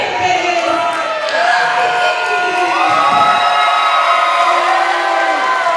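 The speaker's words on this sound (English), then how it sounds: "the cheers and chants for Mikey have been beyond anything that I think I've seen tonight" A wrestling event crowd cheering and chanting for the wrestler Mikey, a loud, continuous wash of shouting and whoops from a large audience, with a commentator's voice running over it.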